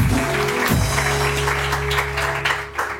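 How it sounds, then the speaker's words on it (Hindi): Studio audience applauding on a live morning television talk show, a steady wash of clapping held over a loud, sustained musical backing throughout. "इनके लिए तालियां बजाइए जरा जोर से"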